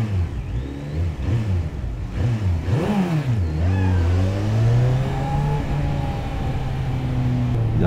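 A motorcycle on a road ride near the Rur lake in Germany revs hard as the throttle opens, its engine pitch swooping up and down, then holding a steady, rising drone close by.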